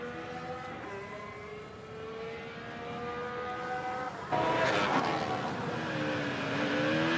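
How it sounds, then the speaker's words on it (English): A Formula 1 car at Zandvoort rounds a left-hand turn, engine note dropping under braking then rising sharply into a loud, raspy acceleration, heard from trackside with little talk. "Kimi Antonelli coming into the left-hander at turn 10, and round he goes."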